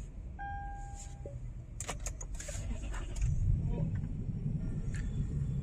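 A 2008 Toyota Land Cruiser AXG is started up: a short whine and clicks give way to the engine catching at about three seconds, then a steady idle rumble close by, with brief handling noises before.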